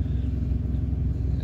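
A semi-truck with a trailer backing straight up, its diesel engine idling in a low, steady, close rumble with no talk over it.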